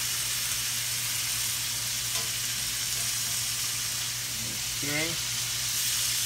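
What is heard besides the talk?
flounder sautéing in a pan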